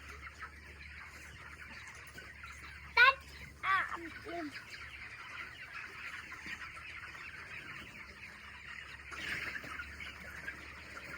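A couple of chickens on a poultry farm, many of them black, cluck and squawk in short bursts nearby, then quiet down to faint background noise with a brief rustle later.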